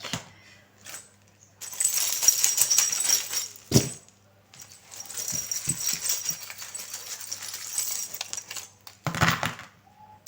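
Small charms dropped and shaken onto a surface, giving a few bursts of light metallic clinking and jangling, close by, with quieter gaps between them.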